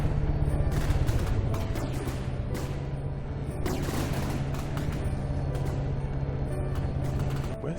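Naval guns on warships in From the Depths fire in a ragged series of sharp reports over a steady mechanical hum and clanking machinery, moderately loud throughout.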